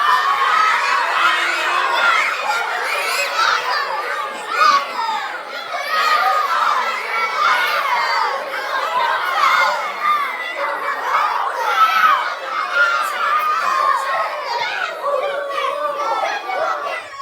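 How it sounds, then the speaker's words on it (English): A large lecture audience yells loudly on cue as if angry, a steady dense roar of many shouting voices that stays continuous for around seventeen seconds. "I need you to yell at Abdul Salam like you're really, really angry at him."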